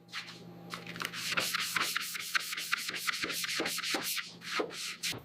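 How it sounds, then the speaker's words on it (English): Steady rhythmic rasping of a sanding block scrubbed back and forth over body filler on a 1969 Dodge Charger, close up, with a low hum underneath. "Time for hours of painful hand block sanding."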